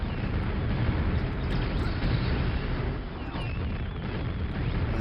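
Explosions in the Quake video game roar as a dense, continuous rumbling blast that fills the sound, loud and sustained with slight swells and no pause.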